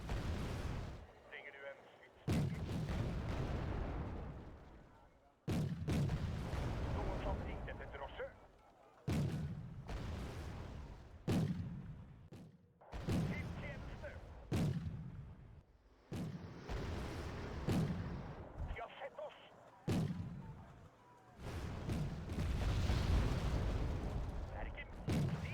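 Bombs explode in a combat video game, a series of heavy booming blasts every few seconds, each with a sharp onset and rumbling decay, loud and close, with a player talking in between.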